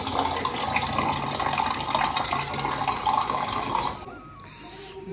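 Water runs from a tap while filling a container, a steady loud rush for about four seconds that then cuts off abruptly, leaving quieter trickling and room noise.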